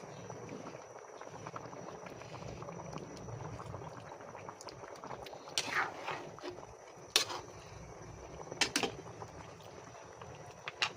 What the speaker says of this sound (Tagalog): Pinapaluto ko lang yung gata bago ko ilagay yung talbos.